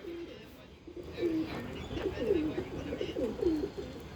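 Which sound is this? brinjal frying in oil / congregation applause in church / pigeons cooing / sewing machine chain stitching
pigeons cooing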